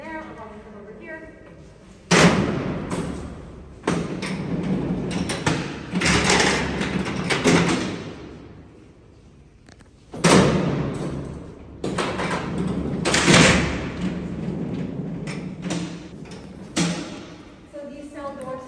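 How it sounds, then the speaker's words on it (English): Heavy prison cell doors at Alcatraz slam and slide on their tracks, producing loud metallic bangs and rumbling bursts in several separate groups, with quieter gaps between them and people talking at times. "So these cell door sounds have been used in Jurassic Park."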